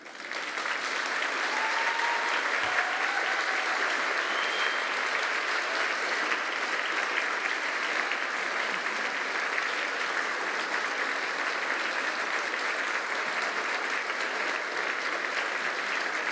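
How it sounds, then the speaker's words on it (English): Standing graduates at a university graduation ceremony give a long, warm round of applause, a dense, steady wash of clapping that fills the hall evenly from start to finish. "turn round and give your home front a warm round of applause"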